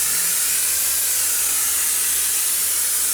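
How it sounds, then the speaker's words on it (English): Special adhesive sprayed from an aerosol onto upholstery material during car interior work, a steady continuous hiss lasting the whole stretch, close and fairly loud with no talking over it. "So you spray that and the material as well?"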